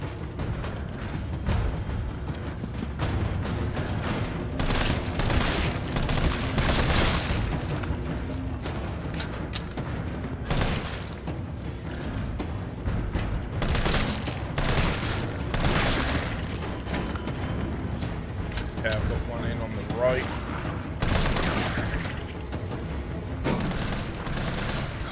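Assault rifle fire in Resident Evil 3 Remake comes as loud, sustained bursts of rapid shots, mixed with heavy booms and mechanical clatter, over roughly twenty-five seconds of nearly continuous combat.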